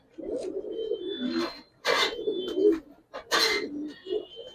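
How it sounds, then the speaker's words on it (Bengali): Young giribaz and coloured pigeons coo in close, low throaty phrases, repeated in three bursts with rustling and faint chirps in between, loud and near. "আজকে যেগুলো কবুতর দেখাবো ম্যাক্সিমাম ইয়াং কবুতর এবং চালানির কবুতর"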